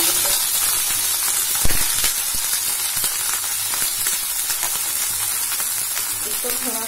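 Green chillies and chopped onions sautéing in hot oil with cumin, a loud continuous close sizzle and hiss with a brief knock of a utensil early on.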